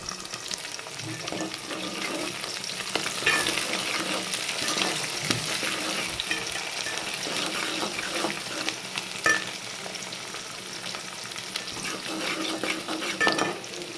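Cumin, onion and curry leaves fry in a pan with a steady, close sizzle, broken by occasional stirring scrapes and clinks of a utensil against the metal, and no voices.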